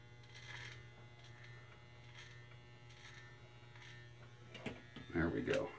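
An electric beard trimmer shaping a beard gives a faint, steady low buzz under a voice, with a few brief louder rasps near the end as it cuts.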